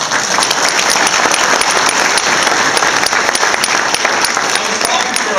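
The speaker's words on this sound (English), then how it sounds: "Let's give her a round of applause." An audience at the LSU-Eunice Bengal banquet breaks into loud, sustained applause for an athletic administrative assistant, a close, even roar of many hands clapping with no pauses.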